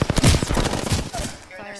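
Close, loud bursts of automatic gunfire in an Apex Legends firefight, rapid shots crowding the first second before tapering off, with a voice talking underneath.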